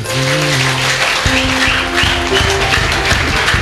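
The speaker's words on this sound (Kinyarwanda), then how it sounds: "tugukomeye amashyi menshi cyane" A church congregation applauding, a dense wash of many hands clapping together, loud and sustained, with a steady rhythmic beat and tonal sounds underneath.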